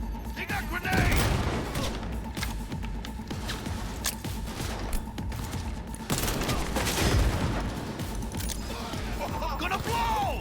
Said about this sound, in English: Look out! They got grenades!